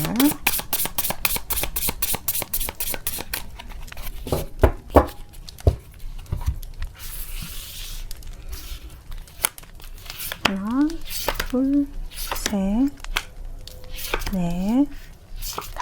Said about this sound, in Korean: 흐름에 대해서 웨이트 카드를 한번 뽑아보도록 할게요